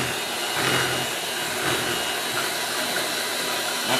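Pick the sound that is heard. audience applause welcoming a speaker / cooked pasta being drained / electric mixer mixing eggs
electric mixer mixing eggs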